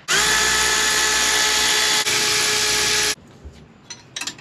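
Power tool with a 12mm socket removes the tensioner on a Kawasaki Ultra 310 jet ski, whirring loudly and steadily for about three seconds before stopping, followed by a few faint knocks.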